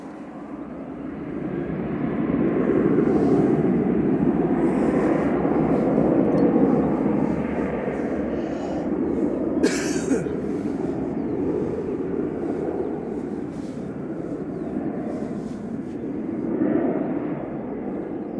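A Ryanair airliner departing Manchester Airport for Milan, its broad engine roar steady and fairly loud throughout, swelling slightly near the end, with some wind buffeting on the microphone.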